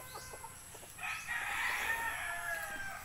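A young stag rooster crows once at a backyard farm, a loud drawn-out cock-a-doodle-doo starting about a second in, with faint clucks and quiet ambience before it.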